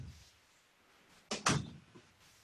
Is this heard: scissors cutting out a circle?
no